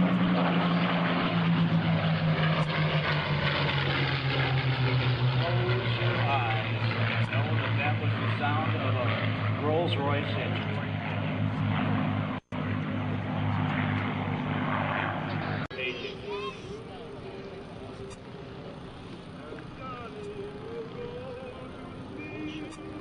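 Spitfire and P-51D Mustang World War II propeller fighters fly past at a military open house, a loud continuous engine drone with a falling pitch sweep as they pass, steady and close, with a brief break before a rougher, quieter roar.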